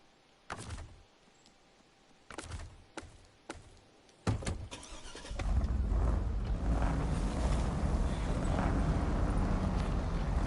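A Truggy off-road vehicle with a 1700-horsepower engine in the SnowRunner video game: a few sharp, separate clicks and thunks come first, then a steady, heavy engine roar takes over and holds loudly to the end.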